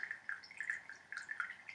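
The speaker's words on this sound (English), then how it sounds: "We want to pour all that out very gently. And I've got a strainer here, just catching the leaves." Brewed sencha green tea poured gently through a strainer, giving a quiet, thin trickle with light irregular splashes and drips that keep going for nearly two seconds, with no voices.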